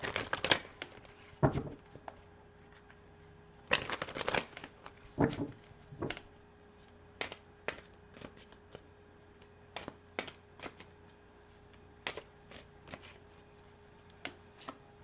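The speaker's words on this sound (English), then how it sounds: "So let's pull some cards and see what this brings up." Tarot cards being shuffled by hand in a quiet room, irregular bursts of riffling and soft slaps, some dense clusters and some single sharp flicks.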